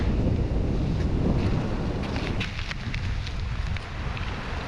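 Cold, strong wind buffets the microphone on Pensacola Beach, a loud broadband roar that gusts and eases over faint surf, with no one talking.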